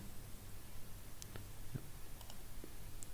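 Several faint, scattered computer mouse clicks, the loudest near the middle, over a soft steady background hum with no talk.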